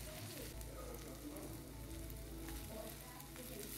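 Scallions sauté in a pan with garlic butter shrimp, producing a dense, even sizzle with faint crackles and light stirring, quiet and steady with no talking.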